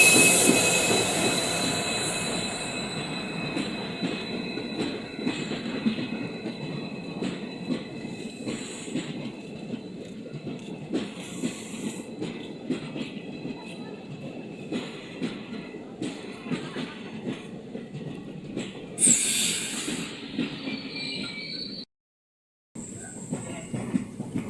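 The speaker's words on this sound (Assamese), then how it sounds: "এইখন ট্ৰেইন আহি আছে" A passenger train pulls into a station on the Borpothar to Dimapur route, its wheels rumbling and clattering steadily up close with occasional squealing, a loud continuous roar that cuts out briefly near the end.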